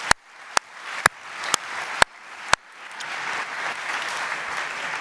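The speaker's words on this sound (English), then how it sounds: "I think all of you should give them a round of applause because they've done a very good job." Audience applause at an awards ceremony for a schools racing-car competition world final at Silverstone, opening with several sharp, evenly spaced loud claps close by before swelling into broad, steady crowd clapping.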